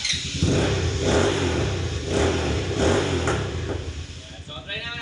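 A 200cc G-Force 4x2 ATV engine starts and revs, giving a mid-pitched engine roar that rises and falls in repeated throttle blips. Its sound runs loud and close, mixed with a bit of speech.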